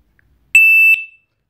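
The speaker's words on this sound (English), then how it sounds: "siren will beep one as it did when it receives the wireless signal from home alarm system" A wireless home alarm siren gives a single sharp, piercing beep while pairing with its alarm system, loud and close against near silence.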